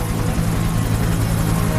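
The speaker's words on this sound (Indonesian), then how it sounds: "Nick bergegas ke helikopter, dan mereka terbang ke lokasi yang ditunjukkan oleh Clyde." A helicopter flies overhead in a steady, loud, dense roar of rotor and engine noise that stays level from start to finish with no pauses.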